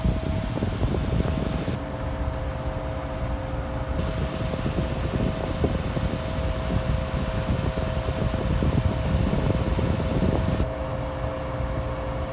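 A 1960 Fedders 9700 BTU Weather Wheel window air conditioner running steadily, a continuous fan whoosh with a low motor hum and faint tonal whine, close and unbroken throughout, no voices.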